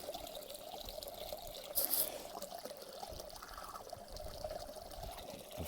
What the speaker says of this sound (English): You can hear that water.